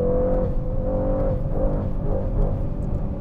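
Inside a Brabus Rocket 900 with 900 PS, the engine pulls hard under acceleration, a steady droning tone rising and dipping slightly in pitch, loud and close, with no one talking.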